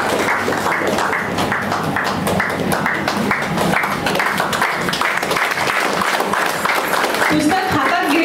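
Applause from the audience at a Marathi book lovers' gathering, a dense, continuous roar of clapping that holds steady throughout, with voices mixed in.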